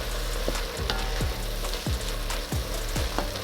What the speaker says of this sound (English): the only thing that I'm doing right here is basically sauteing the vegetables